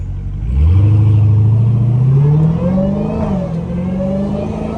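A Dodge SRT Hellcat engine roars loudly up through the revs as the car accelerates hard, pitch climbing steadily for several seconds before a brief dip and a sustained, strained high rev.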